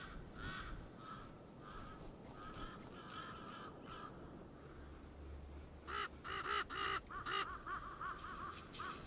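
Ravens on Fuerteventura in the Canary Islands caw repeatedly at a distance over an open-air background, then a cluster of louder, quicker caws breaks out near the end.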